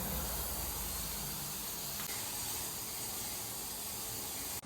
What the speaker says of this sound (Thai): สเปรย์แล้วมันก็จะเป็นฝ้ามองไม่ไม่เห็นนะคะ